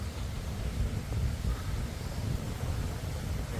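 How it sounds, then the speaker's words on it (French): Strong wind blows along a beach on the Costa Brava at Badalona, a constant rough rumble and hiss buffeting the microphone at an even level, with no voices. "Il y a vachement de vent pour l'instant."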